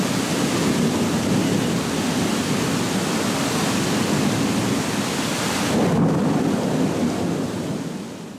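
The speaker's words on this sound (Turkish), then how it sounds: "O şimşek çakıp gök gürültüsü ve şırıl şırıl yağan o yağmuru" Thunder rumbles through heavy, steady rain during a storm in Malaysia, a dense roar that stays loud throughout with a brief swell near the end and no voices.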